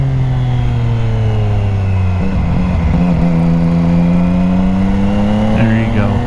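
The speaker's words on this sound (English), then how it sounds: "Drop a couple of gears to slow down." A sport bike engine fitted with a new aftermarket exhaust, loud and close, droning steadily and then dropping pitch with a blip as it downshifts through a couple of gears while slowing.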